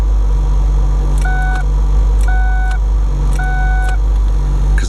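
A car's door-open warning chimes in a steady repeating two-tone pattern, about once a second, over the low hum of an idling engine nearby during an oil change.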